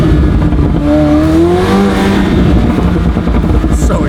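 A McLaren supercar on snow tires revs hard and accelerates, a loud close engine note sweeping upward in pitch with rising tonal whines and roar throughout.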